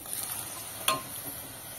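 Dried peas drop into an onion and tomato mixture in a pan for ragda: one brief, sharp pouring clatter over a faint, steady sizzle, with no talking.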